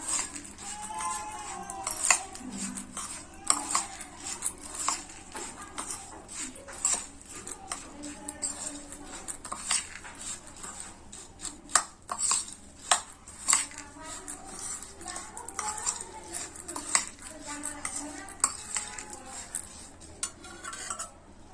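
A spoon stirs and tosses masoor lentil namkeen with red chili powder, chaat masala and salt in a metal bowl, giving continuous close scraping, rattling and clinking throughout.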